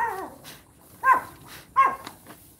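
Dogs bark and whimper at a rural hut, with a soft whine early on followed by two sharper, louder yelps about a second apart, fairly close and with nothing else sounding.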